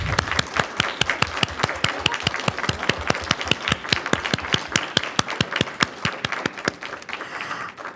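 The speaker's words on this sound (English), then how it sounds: "Let's give them all a well-deserved round of applause." An audience at an October 2017 candidates forum breaks into applause for the candidates, a crisp round of many hands with prominent individual claps up close, fading out toward the end.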